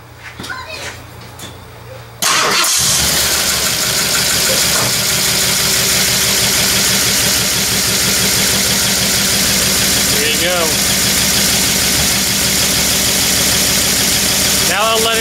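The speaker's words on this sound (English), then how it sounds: "Okay, I got some coolant in it, bolted up the exhaust, and I'm gonna start her up" A Ford 351 Windsor V8 with GT40 heads, fresh coolant and newly bolted exhaust cranks briefly, fires and settles into a loud, steady rumbling idle close by, with a voice heard before it starts.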